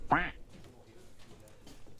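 A single loud, close duck quack opens, followed by quiet background murmur and faint indistinct sounds.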